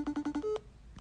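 A phone call tone: several short, evenly spaced electronic beeps, then one longer tone and a faint blip after a pause, heard alone and fairly quiet.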